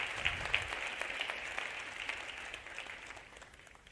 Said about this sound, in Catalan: aquí la gent aplaudeix molt fort.